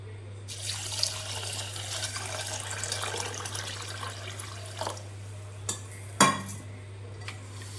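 Red rice being washed by hand in water in a metal vessel, continuous close sloshing and swishing with occasional clinks against the pot over a low steady hum.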